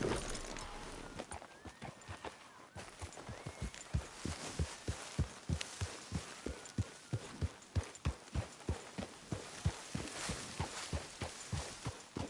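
Horse hooves in Red Dead Redemption 2 clip-clop in a steady, even rhythm of close, loud beats that keep going for the whole stretch, with no voices over them.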